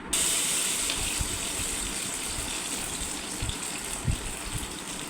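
Jackfruit pieces frying in hot oil for crispy chakka varuthathu, a loud, steady, dense sizzle and hiss that runs unbroken throughout, close and without talk.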